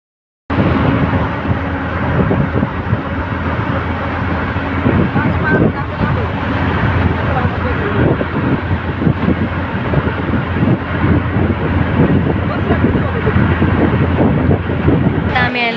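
Dense road traffic in a packed jam, a continuous loud roar of engines and road noise with wind buffeting the microphone, steady throughout after an abrupt start.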